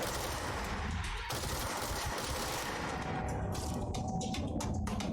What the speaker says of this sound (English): Somebody's lobbing explosives, though.